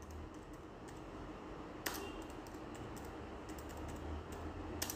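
Python code being typed on a computer keyboard, a quiet close run of rapid key clicks with a few sharper, louder taps, and no voices.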